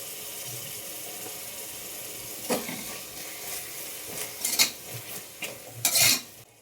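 Bagara rice mixture frying in a pan, a soft hiss broken by scraping stirs and clattering spoon knocks that grow louder toward the end.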